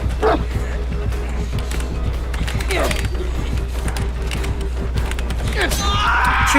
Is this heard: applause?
no